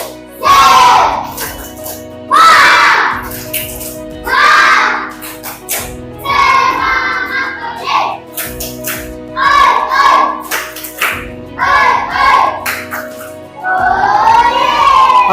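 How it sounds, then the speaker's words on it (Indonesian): A classroom of students performing a rhythmic Indonesian tepuk semangat clapping chant, bursts of clapping alternating with loud shouted group responses in a patterned rhythm. "Tepuk semangat."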